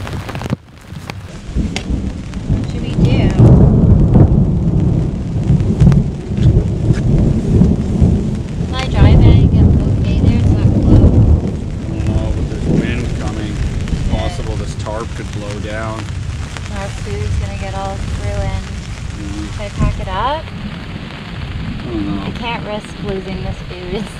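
Heavy rain pours steadily through a wild rainstorm at a campsite, with loud rolling thunder rumbling beneath it and voices talking over the downpour.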